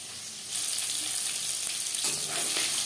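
Steady hissing sizzle of fish frying in hot oil, growing louder after a moment and continuing without pause.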